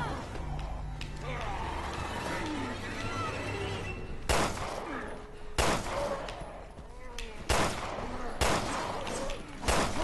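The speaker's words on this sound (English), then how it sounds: "Alright, shotgun! Problem solved." Shotgun blasts ring out in the survival-horror game Resident Evil Revelations 2. About five heavy, booming shots land at irregular intervals over a constant bed of game ambience and scattered vocal sounds.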